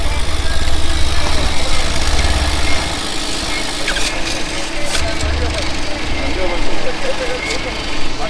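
A vehicle engine idles through a modified silencer, giving a steady, loud, close low rumble that continues throughout, with voices talking over it.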